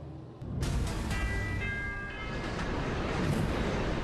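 A New York 7 subway train rumbles loudly on the elevated tracks above busy Roosevelt Avenue in Jackson Heights, a sustained roar of wheels and metal with high squealing tones rising over street noise.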